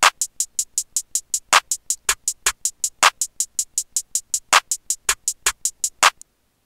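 A trap drum pattern programmed in GarageBand plays alone: a steady, fast run of crisp hi-hat ticks with louder snare or clap hits falling at regular intervals, loud and close, ending abruptly.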